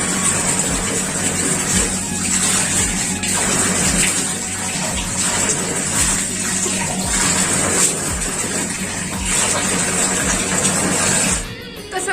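Tap water runs steadily into a basin for face washing, a continuous close rushing splash that holds for about eleven seconds before cutting off near the end.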